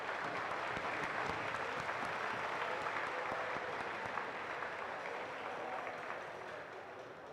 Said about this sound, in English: Another round of applause for our student athletes.